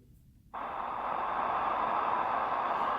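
Sony ICF-SW7600G shortwave radio tuned toward the CHU time station, a steady hiss of static switching on after a brief quiet moment and continuing evenly, the station itself buried faint beneath the noise.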